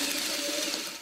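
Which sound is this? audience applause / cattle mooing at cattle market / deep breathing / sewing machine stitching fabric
sewing machine stitching fabric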